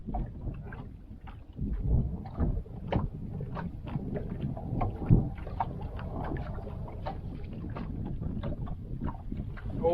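Gusty wind rumbles and buffets across open water on a winter crappie ice-fishing outing, a low, uneven roar with scattered knocks and thumps, without speech.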